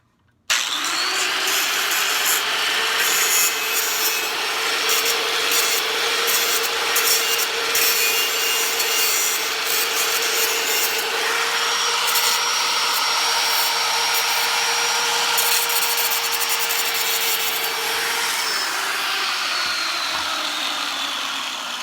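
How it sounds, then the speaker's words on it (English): An angle grinder runs one pass across the cut metal end of a shelf for a walk-in cooler, holding a loud, steady, close-up whine for about twenty seconds before easing off at the end. "So I like to run my grinder once across."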